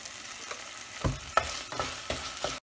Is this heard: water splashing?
no